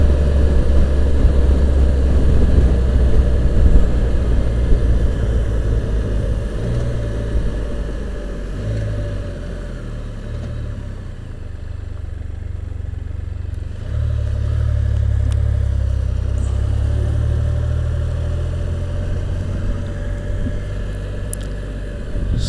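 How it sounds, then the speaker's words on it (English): A 2015 Can-Am Spyder RT three-wheeled motorcycle on a demo ride gives a steady engine drone under heavy wind rush, swelling slightly as the ride goes on, with no talk. "the little demo ride we've done here with the 2015 Can-Am Spyder"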